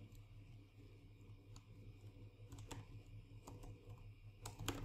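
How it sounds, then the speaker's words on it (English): Quiet, irregular clicking of keys on a computer keyboard, faint and close, with a low hum in the room. "I am typing something"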